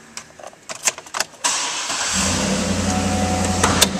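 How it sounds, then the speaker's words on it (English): A 2013 GMC Yukon Denali AWD starts up close by: a few clicks and shuffles, then a sharp crank that catches into a steady, rumbling idle that holds for several seconds. "Now we'll start up this vehicle."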